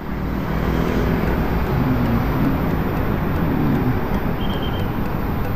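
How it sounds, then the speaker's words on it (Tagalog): Steady road traffic from many vehicles surrounds an e-bike ride on a warm day, a dense, continuous roar of passing cars and engines at close range with no talk. "Traffic, dami talagang sasakyan"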